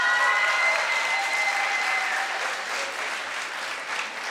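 A large audience at a moot court awards ceremony breaks into loud, sustained applause, dense clapping from many hands holding steady and easing only slightly toward the end.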